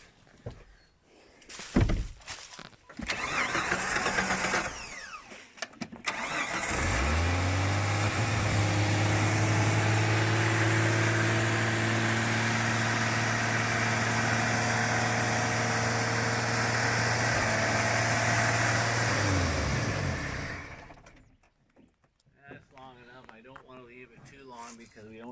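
A Jeep TJ cranks with a few thunks, then its engine catches and idles steadily and loudly for about fifteen seconds before shutting off, with brief voices talking before and after.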